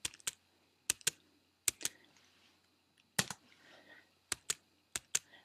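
Separate, crisp key presses on a computer keyboard, the tab and delete keys struck one at a time, with about a dozen close, sharp clicks spaced unevenly in a quiet room.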